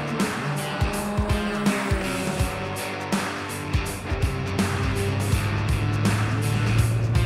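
A 1969 Crosslé 90F race car, 120 hp in a 420 kg body, accelerates hard with a loud, rasping engine that climbs through the revs and shifts gears, heard close with continuous roar and brief squeals.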